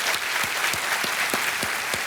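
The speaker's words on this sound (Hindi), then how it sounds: "एक बार फिर तालियों के साथ इनका अभिनंदन।" A studio audience on a televised quiz show claps steadily, a dense, close wash of applause with individual hand claps audible throughout and no speech.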